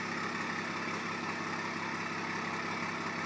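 A BMW M2 fitted with a Dinan exhaust idles warm, giving a steady, even low rumble with a constant drone and no revving, alone without any talk.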